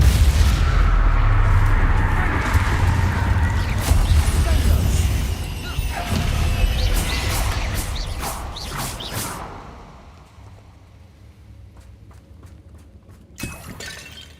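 Bombarda and Confringo spells explode in Hogwarts Legacy combat: loud booming blasts with shattering debris dominate the first nine seconds, then quieter crackles and scattered hits trail off, with one sharp impact near the end.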